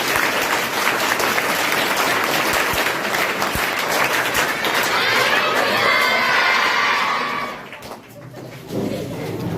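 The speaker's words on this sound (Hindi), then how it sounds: "5 तालियां।" A group of children claps and cheers loudly in a sustained burst of applause that fades out near the end.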